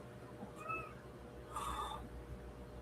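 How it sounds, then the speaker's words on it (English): A cat meowing indoors, two short close meows with a brief pause between them, the second longer and louder, over a low steady background hum. "if she's not meowing all the time, it's actually getting very hard to focus with"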